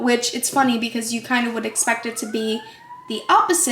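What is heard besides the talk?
siren in the background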